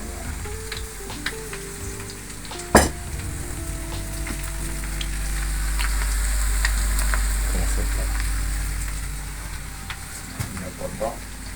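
Potatoes fry in a pan with a constant sizzle while being stirred, with scraping spatula strokes and one sharp knock early on, and voices talking in the background.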